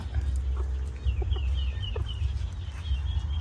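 Chickens cluck in short, scattered calls over a steady low rumble, with no one speaking.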